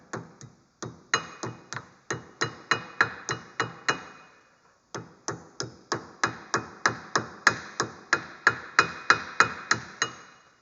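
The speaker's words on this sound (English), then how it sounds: "Tap it with a hammer." Sharp metallic hammer taps on the axle of a 2011 Polaris Ranger XP 800 in steady runs, close and crisp, about twenty blows with a brief pause partway through.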